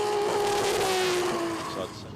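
A drift car in a D1NZ drift championship battle at Manfeild comes back on the throttle, its engine revving loud and close with a rising then falling whine before fading, under a commentator's voice.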